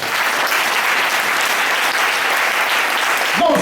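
A church congregation applauds loudly and steadily throughout, a dense, sustained wash of clapping from many hands with no pause.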